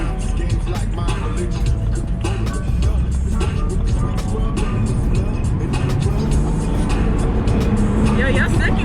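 BMW car pulling hard in second gear, with a loud, sustained engine roar and road noise heard from inside the cabin while people talk over it.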